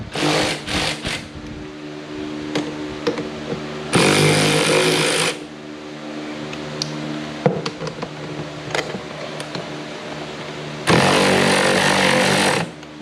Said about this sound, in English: So now we done went to the motorized ratchet Harbor Freight. A lot more user friendly.